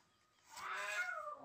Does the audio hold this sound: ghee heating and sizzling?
no